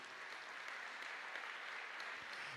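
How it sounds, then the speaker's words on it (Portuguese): A church congregation applauds in praise, a steady, even wash of many hands clapping at a distance, faint and continuous for a couple of seconds. "Você pode aplaudir ao Senhor, querido?"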